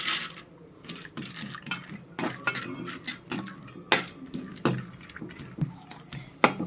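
Cashew pieces fry in melted ghee in a pan while a spoon turns them, giving a faint low sizzle broken by frequent sharp metallic scrapes and clinks in an irregular rhythm.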